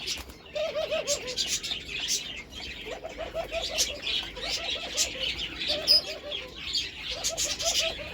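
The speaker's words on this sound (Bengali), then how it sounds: "ঘুঘু পাখির ডাক কিন্তু অনেক সুন্দর" Doves coo in repeated soft, rounded phrases, a pair calling in short bursts against steady chirping and twittering of other small caged birds nearby.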